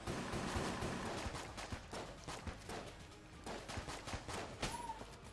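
Quiet, scattered shots from the Vorpal Pistol in Enter the Gungeon, a string of small pops at an uneven pace under a busy game background.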